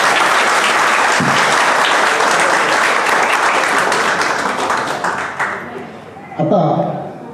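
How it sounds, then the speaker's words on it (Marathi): A crowd claps loudly and steadily for retiring police officers at an honour ceremony. The applause holds for several seconds, thins out toward the end, and a brief voice follows. "त्यांच्यासाठी पण एकदा जोरदार टाळ्या आपण दिल्या पाहिजे."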